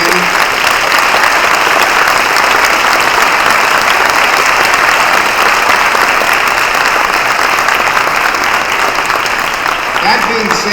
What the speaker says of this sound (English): I think everyone here deserves a great round of applause.